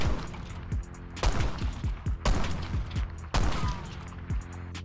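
Bursts of gunfire with mechanical reload clatter in Black Ops 6, several sharp loud shots spaced about a second apart, each trailing into clicks and rattles of the weapon handling, close and without talk.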